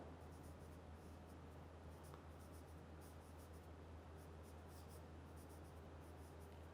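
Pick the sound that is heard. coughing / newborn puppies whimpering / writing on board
writing on board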